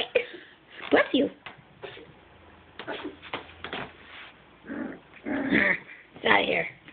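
A puppy lets out short growls, whimpers and high yips in scattered bursts, close by, mixed with a person talking.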